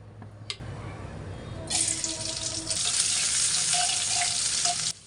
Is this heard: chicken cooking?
yes